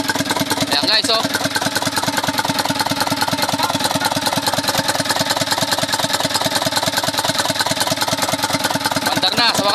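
Isuzu Elf truck with a 4HL1 diesel engine, running after its ECU was swapped for a surplus Japan unit, idles loud and steady with dense rapid clatter throughout, plus a brief knock near the start.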